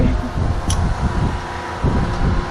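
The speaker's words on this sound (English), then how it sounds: "so I had to kick the fans on. I apologize for the noise." Steady whooshing roar of electric fans running nearby, a constant broadband blowing noise throughout.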